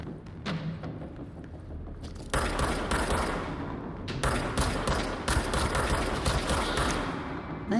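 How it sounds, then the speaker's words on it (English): Shotgun blasts from the video game Control: a few scattered reports early on, then a dense run of loud, booming shots in quick succession, close and heavy, with a thump between bursts. "I think I kind of love the shotgun"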